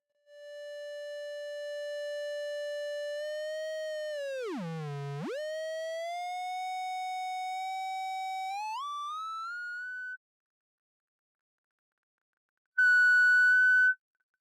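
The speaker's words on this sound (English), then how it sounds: "where the feedback leaps up to become an audible tone" A no-input mixing board feeds back through an EQ-shaped channel into a steady, pure resonant tone with bright overtones. It swoops sharply down and back up midway, steps higher, cuts out, then returns briefly as a loud high tone. No voices.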